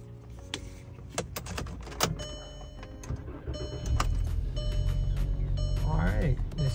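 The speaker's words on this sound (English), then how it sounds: "All right, this key now starts a vehicle." A 2009 VW Jetta cranks and catches after a newly programmed key is turned, preceded by clicks, key and door noises; the engine then settles into a steady near idle.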